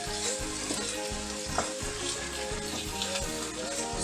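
Salt cod frying in a pan with shallot, a steady, close, continuous sizzle with stirring scrapes and no talk.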